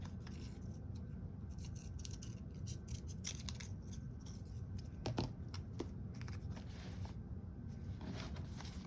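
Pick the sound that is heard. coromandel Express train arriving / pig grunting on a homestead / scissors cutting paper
scissors cutting paper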